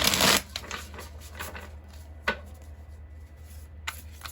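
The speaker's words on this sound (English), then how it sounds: "One more shuffle for group two, please." A deck of tarot cards being shuffled by hand, a quick riffling burst at the start followed by softer sliding and a few light card taps, close and without talking.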